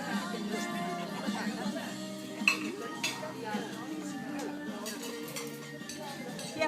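Plates and dishes clink and knock together as they are gathered after an Easter family meal, with light scattered clatter under people talking nearby.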